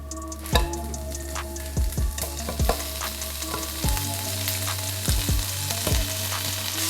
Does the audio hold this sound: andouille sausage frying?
yes